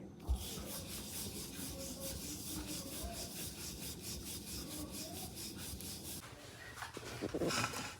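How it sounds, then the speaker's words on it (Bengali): A rolling pin presses out stuffed parathas in slow, even back-and-forth strokes, making a steady woody rubbing that goes on for several seconds before shifting near the end. "আস্তে আস্তে করে বেলতে হবে"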